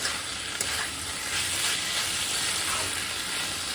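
Pumpkin curry with a little sugar and hot water bubbles and sizzles in a pan while being stirred, a steady close hiss with soft scraping throughout and no voices.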